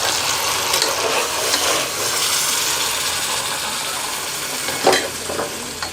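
Tomato sauce and tomato paste hit a hot pan of chicken kabsa, producing a bright, steady sizzle close up with scraping stirring sounds and a short louder burst toward the end.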